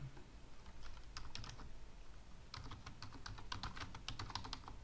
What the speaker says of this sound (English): you can type what you want